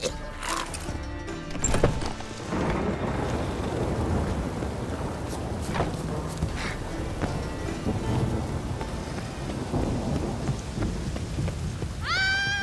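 Steady rain and rumbling thunder fill a stormy scene in The Witcher 3: Wild Hunt on PS4, with a loud crack of thunder early on over a constant downpour.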